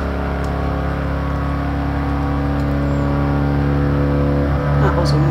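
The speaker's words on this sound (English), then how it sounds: "who doesn't want to watch the sort of replay angle of a Fiat 500 drifting?" A 1968 Fiat 500 F drifts in Gran Turismo Sport, its small engine holding a steady, loud buzzing drone throughout, with a slight surge near the end.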